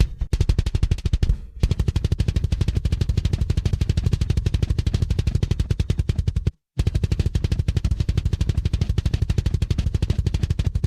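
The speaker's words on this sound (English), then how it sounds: "let's have a listen to our fast kick section with equalizer and without it" Fast kick drum section from a metal mix with a high-pass filter around 60 Hz, a relentless, machine-gun-like stream of tight, punchy beats, loud and steady, broken by two brief silent gaps between playbacks.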